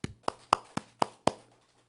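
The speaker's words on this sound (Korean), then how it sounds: "박수." Hand claps ring out in a church during a sermon, six sharp, evenly spaced claps in quick rhythm, close and clear with quiet between them.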